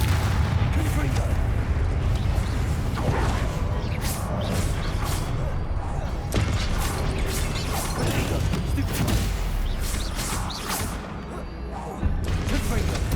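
Blasting spells cast during a Hogwarts Legacy boss fight: repeated booming explosive impacts and crashes over a dense, continuous battle soundscape, with a player speaking over it.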